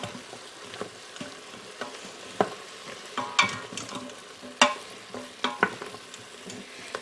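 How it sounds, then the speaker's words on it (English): Onion and celery sauté in an Instant Pot with a soft, steady sizzle, broken by the occasional scrape and tap of a stirring utensil against the pot, with no talking. "I'm going to let these saute a little bit."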